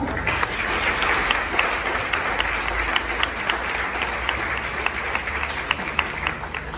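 A congregation at a Catholic religious retreat applauds after a prayer, a steady wash of many hands clapping at moderate distance. Individual sharper claps stand out throughout, and a faint hum runs underneath.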